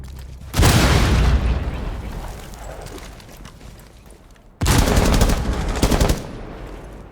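Frag grenade blast and heavy gunfire in Rainbow Six Siege during a professional esports match: a loud close boom with a decaying rumble, then a second burst of rapid automatic fire, with no talking.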